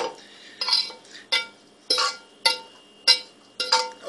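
Metal utensil scraping fried hamburger from a frying pan, clinking in short bursts, about seven strokes at a steady rhythm, close and fairly quiet.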